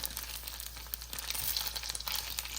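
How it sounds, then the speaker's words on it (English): Rice balls toasting in a pan over a gas stove give off a soft, steady sizzle with faint crackles, close and quiet, with no talking. "turn on the gas and slowly toast it"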